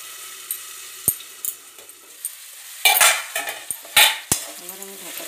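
Food frying in a lightly oiled, covered pan, with soft intermittent sizzling bursts and a few metallic clinks and knocks of utensils and lid, close and fairly quiet.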